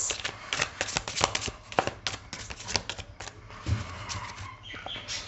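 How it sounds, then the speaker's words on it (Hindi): Tarot cards being shuffled by hand, a quick series of crisp riffling slaps and flutters, close and clear, with no talking over them. "जब मैं शफल कर रही हूँ"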